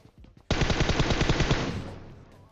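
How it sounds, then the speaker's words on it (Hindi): A loud, close burst of rapid automatic gunfire in the video game PUBG, sustained shots in quick succession that then trail off into echo. "यहां पे मैं वही अपनी सस्ती पुरानी गने चला रहा हूं"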